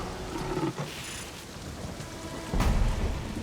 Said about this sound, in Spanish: Pero no podrán guarecerse de esta tormenta.